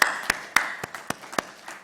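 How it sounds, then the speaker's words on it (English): Scattered audience applause at a talk on electronics manufacturing, a handful of separate sharp claps spread unevenly over a short stretch, moderately loud and close. "very, very special applause to you, sir, and to the whole government on this."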